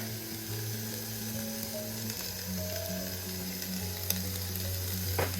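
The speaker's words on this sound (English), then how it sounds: "And here are the onions and sausage. I'm just gonna let that saute." Onions and smoked sausage sautéing in a pan with vegetables, giving a steady, moderately quiet sizzle with a soft clicking mechanical background hum and a few faint clinks near the end.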